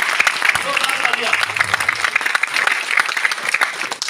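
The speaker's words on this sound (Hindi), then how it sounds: "इन भाइयों के लिए जबरदस्त और जोरदार तालियां, जोरदार तालियां।" Loud, dense applause from a crowd at a business training meeting, sharp claps continuing steadily throughout, with a voice briefly heard beneath it.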